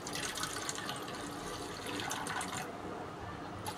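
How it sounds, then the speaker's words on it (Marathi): Water pours steadily into a glass already holding baking soda and squeezed lemon juice, a soft continuous gush mixing a homemade fridge cleaning solution, close by and fairly quiet. "आता मी पाणी टाकावे"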